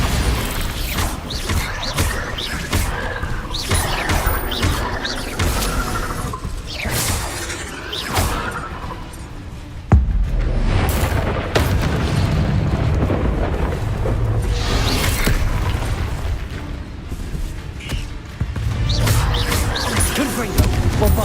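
Bombarda blasting spells from Hogwarts Legacy on PC go off as heavy, rumbling explosions with shattering debris. The loud bursts repeat over a dense, continuous roar, with one sharp blast about halfway through.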